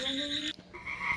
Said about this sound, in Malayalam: ഈ തവളയുടെ ശബ്ദം കേട്ടപ്പോൾ ഞാൻ വിചാരിച്ചേ